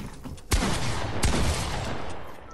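Rapid gunfire in the Fortnite video game, with loud close bursts of shots and two sharp blasts standing out over a continuous volley.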